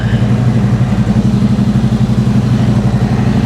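A motorcycle with 297 miles on the odometer idles steadily in a loud, close, continuous low rumble with an even clattering pulse, left running to circulate its oil.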